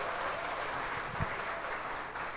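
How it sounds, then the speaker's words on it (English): A brief wash of audience applause saluting Green Bay Packers quarterback Aaron Rodgers, steady and moderately faint for a couple of seconds with no talking over it. "I think that deserves an applause."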